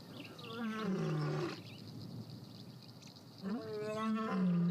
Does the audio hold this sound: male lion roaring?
yes